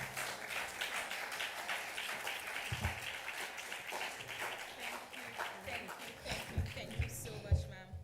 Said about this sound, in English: Please continue clapping now.